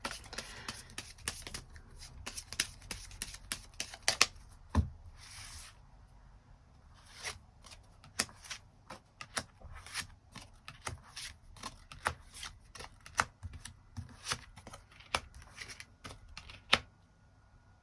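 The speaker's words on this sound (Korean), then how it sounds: "추가 카드 뽑아보도록 하겠습니다." Tarot cards are shuffled and drawn, producing quick, soft riffles and snapping flicks in irregular bursts, faint and close, with no voices.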